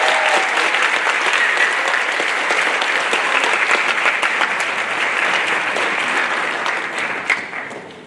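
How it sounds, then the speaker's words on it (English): Students and families at a senior final assembly clap loudly for honorees, a full, sustained wave of applause that holds steady before tapering off at the end. "Can we please have a round of applause for all of them?"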